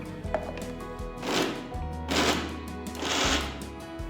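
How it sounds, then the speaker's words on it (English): A mixer grinder in pulse mode grinds cooled ragi roti pieces in a mixer jar, with three short, loud, rattling bursts separated by quieter pauses. "I'm just going to transfer them to a mixer jar and we're going to grind them in pulse mode"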